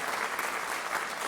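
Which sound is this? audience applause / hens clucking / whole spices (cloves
audience applause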